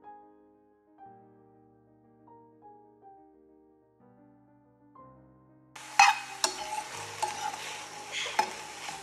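Paneer filling being stirred in a frying pan, starting with quiet tonal background then a burst of scraping, clinking spatula strokes over a steady sizzle in the second half.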